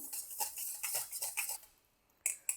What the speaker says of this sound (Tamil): இந்த மாதிரி விஸ்க் வச்சு நீங்கள் கலக்கும் போது அது நல்லா மிக்ஸ் ஆகும்